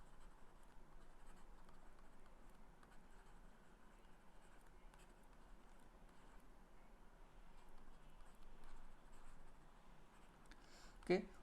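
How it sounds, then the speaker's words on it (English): Writing on a board during a physics lecture, heard as faint, steady scratching and tapping strokes at a distance, continuing throughout with a brief louder knock at the end. "So, let me write it down."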